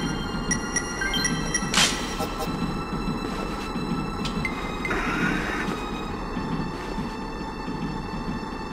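A train in the video game Chase the Express rattles steadily along the tracks, a continuous rolling rumble with a few sharp metallic clicks and a brief squeal, with no talking.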